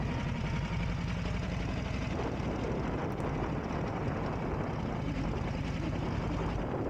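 A Harley motorcycle with a jockey hand shift and foot clutch rumbles at a low, steady idle as it rolls and slows, a continuous close engine drone with no speech.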